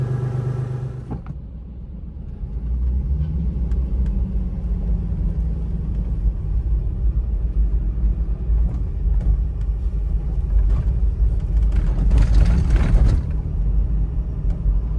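Toyota 4Runner with a 5VZ-FE V6 and Doug Thorley headers idles with a steady, deep exhaust rumble, close and continuous, swelling slightly louder near the end; no one speaks.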